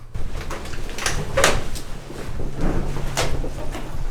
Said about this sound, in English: Heard a door slam.